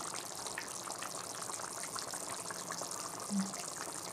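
Mushroom gravy simmering in a pan, a steady soft bubbling hiss that runs throughout at a low, even level, with one slightly louder burble near the end.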